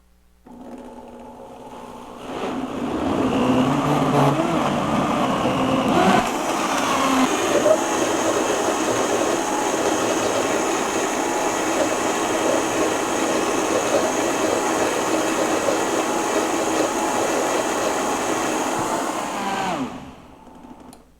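A high-power blender churns a kale green smoothie. Its loud motor drone starts abruptly, grows stronger after a few seconds, and runs steadily for about twenty seconds before cutting off.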